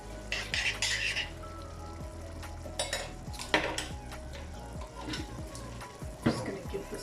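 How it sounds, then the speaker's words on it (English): A spoon stirs a Durban-style curry base with salt and tamarind in a pot, scraping and clinking against the metal over a soft simmering sizzle, in uneven bursts. "Just going to give this a mix."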